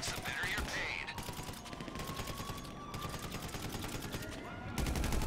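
Rapid gunfire in the video game GTA 5 during a prison break heist, dense bursts of shots repeating almost continuously, with music and game effects underneath.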